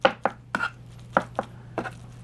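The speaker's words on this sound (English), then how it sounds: "pastry scraper to mix them all together" A pastry scraper knocks and scrapes against the board while mixing ube gnocchi dough, about seven sharp separate taps in an uneven rhythm, close and fairly quiet over a low steady hum.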